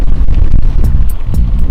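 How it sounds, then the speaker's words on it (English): Strong wind buffeting the microphone with heavy, continuous low rumble and gusty bursts throughout. "it's getting windy again now"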